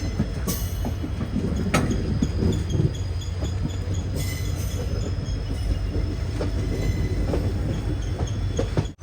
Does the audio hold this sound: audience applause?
no